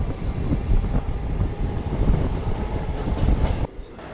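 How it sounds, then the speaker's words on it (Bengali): A local train on the Howrah to Bardhaman line rumbles and clatters loudly from inside the carriage, with wind buffeting throughout, before the noise suddenly drops near the end. "যাচ্ছি এই লোকাল ট্রেনে বর্ধমান অবধি।"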